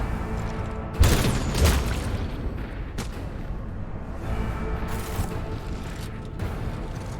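Gunfire in Warhammer 40k: Rogue Trader lands as several sharp, heavy booms spaced a second or two apart, with the first shots loudest and close, and a rumbling tail between them. No voices are heard.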